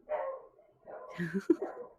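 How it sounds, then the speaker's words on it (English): A puppy gives a few short, soft yips and whiny barks nearby, spaced over a couple of seconds with quiet gaps between them. "Oh, puppy in the back."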